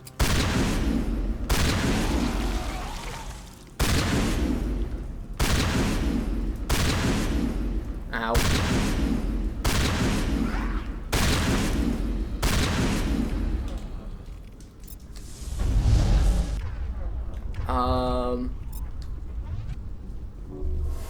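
Shotgun fire in the video game Mass Effect, a series of loud booming blasts roughly every second, each with a short decaying tail, followed by a brief electronic chirp near the end.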